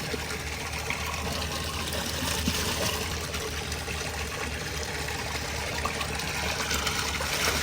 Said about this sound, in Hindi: यहाँ पर चावलों में डाल देते हैं जी पानी।